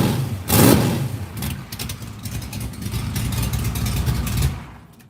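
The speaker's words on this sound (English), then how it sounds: "we're going to do a little rev real quick" A car engine is revved hard in a short burst, a loud sharp rise and fall followed by rough idling and a second swell before it drops off, with no talk.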